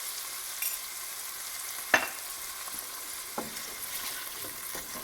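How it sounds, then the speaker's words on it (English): Tomatoes frying in a pan for cauliflower pasta, a faint steady sizzle with a couple of brief scraping stirs from a utensil, close and quiet with no talking. "Put the flame a little higher so that the tomatoes start cooking."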